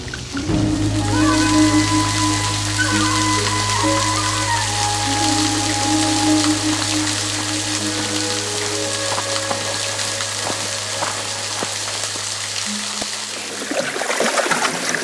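A waterfall near a camp in the central African rainforest gorilla country rushes in a loud, continuous broadband hiss close by, with a steady low hum underneath and no speech.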